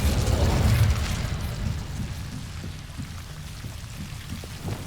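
Incendio fire spell cast in Hogwarts Legacy, a magical burst that flares loudly at the start and then settles into a rumbling, crackling roar that slowly fades.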